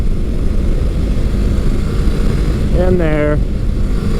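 A Kawasaki Versys motorcycle engine drones loudly and steadily while riding, then briefly revs upward as the front wheel hops; a voice speaks briefly over it.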